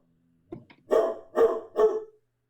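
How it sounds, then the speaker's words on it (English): A dog gives three loud, close barks in a steady rhythm, each one short and sharp, after a small yelp-like sound and with near silence around them. "There he is, just standing there barking."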